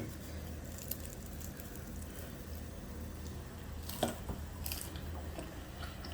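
Someone bites into a crunchy Jamaican ackee and saltfish fritter and chews, with soft, close crunches and squishy mouth sounds clustered near the middle, otherwise quiet with a low background hum.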